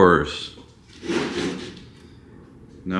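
Wooden drawers, about 12 inches wide and deep, built for a camping setup in a 1998 Honda CR-V, slide open and shut in a few close, scraping strokes, with a voice heard between them.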